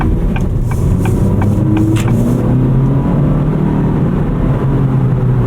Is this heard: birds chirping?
no